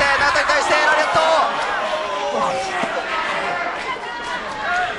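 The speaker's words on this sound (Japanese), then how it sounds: "場内はヨネの大歓声" A loud arena crowd roars and cheers for wrestler Muhammad Yone at a NOAH pro wrestling match, a sustained dense roar with rising swells under excited commentary.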